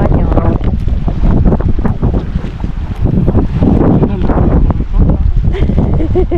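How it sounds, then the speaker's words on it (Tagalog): Strong wind buffets the microphone in heavy, gusting roars, with a choppy rumble of waves beneath it, at Los Vaqueros while trout fishing. "Sobrang lakas ng hangin."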